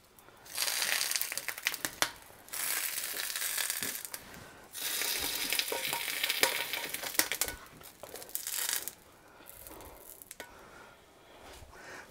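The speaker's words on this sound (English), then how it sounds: "So I'm going to put the onion skin down to char." Onion skins charring on a hot surface for molcajete salsa: a steady crackling sizzle that swells and fades in several long bursts, close and moderately loud.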